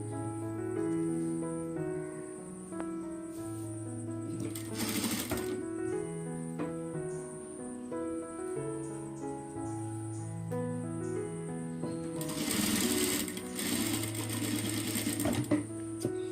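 A sewing machine stitches pleats into a short skirt, with steady runs of stitching that swell louder around the middle and again near the end, over continuous background music.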